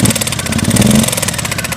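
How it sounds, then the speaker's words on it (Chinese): A Suzuki M109R motorcycle with an 1800cc engine runs close by with an abnormal fault, giving a loud, rapid mechanical clatter and rattle over a rough idle. "这种乒铃乓啷异响的声音。"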